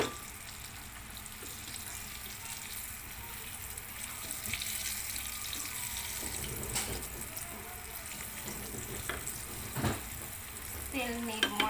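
Pork belly frying in a pan over a low gas flame, a steady close hiss of sizzling oil with faint crackles and a few clinks near the end; no talk.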